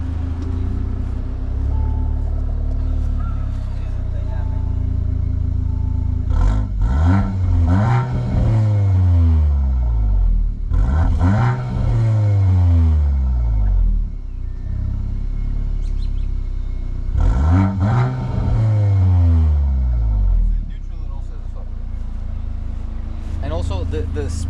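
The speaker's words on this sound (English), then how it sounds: "Let's hear the exhaust." A 2024 Audi S3 8Y in sport mode, its exhaust revved three times in separate bursts, each rising sharply to a loud roar and falling back to a steady idle rumble, heard up close while someone talks in between.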